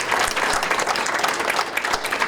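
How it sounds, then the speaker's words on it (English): A room of breakfast attendees at a chamber of commerce legislative event claps for elected officials, continuous full applause filling the whole stretch with no speech. "Let's give our elected officials a round of applause."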